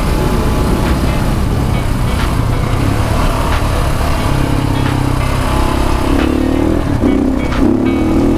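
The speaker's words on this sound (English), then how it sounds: "All the bikes are rolling in." Dual sport motorcycles, including a KTM 690 Enduro R, rolling in at a store, a steady loud engine drone with rising revving tones near the end.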